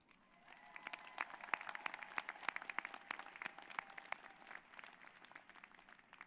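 Audience applause fills a commencement ceremony as the crowd cheers faculty and staff: a steady wash of many hands clapping, with sharp individual claps, lasting throughout, moderately distant and without speech.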